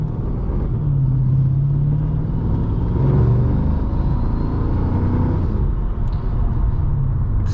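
A 2006 Mercedes-Benz E55 AMG W211 supercharged V8 pulls steadily under acceleration from inside the cabin, a deep continuous rumble with a faint rising whine above it and no talking.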